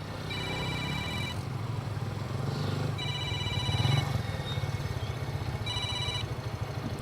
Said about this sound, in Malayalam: നീ ആ റോഷനെ ഒന്ന് വിളിച്ചു നോക്കി